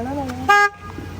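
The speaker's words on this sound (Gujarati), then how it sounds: "ઓય, હોર્ન નહીં મારવાનું." A Mercedes-Benz car horn gives one loud, steady honk of about a quarter second, up close, with a voice talking just before it.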